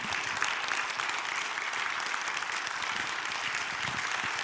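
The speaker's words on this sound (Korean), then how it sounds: "다시 한번 큰 박수로" A church congregation at a choir seminar applauds steadily, a fairly soft, even patter of many hands clapping throughout with no voices on top.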